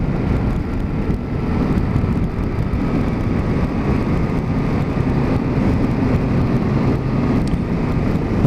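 Yamaha Tracer motorcycle engine pulling hard in fourth gear along a long straight road, a loud steady roar mixed with heavy wind rush, continuous for several seconds with no talk.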